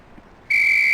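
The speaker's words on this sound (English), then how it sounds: "On the whistle." A single shrill whistle blast from the 1995 Police Quest: SWAT game cuts in abruptly after brief quiet and holds a loud, steady tone to the end.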